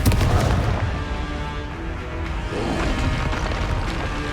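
Confringo fire-spell blasts in the Hogwarts Legacy video game, dense booming explosions with heavy low rumble and crackling bursts filling the whole stretch, loud and close.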